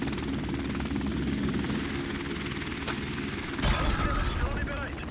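A helicopter killstreak in Call of Duty: Modern Warfare Remastered, on the Crash map, churns with steady rotor thumping and engine drone beneath gunfire bursts, with a player talking over it.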